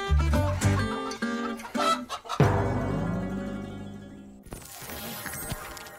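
Voices imitating chicken clucking and fowl calls in a lively burst of several clucks, followed by a fading ringing tone and quieter background, no plain talk.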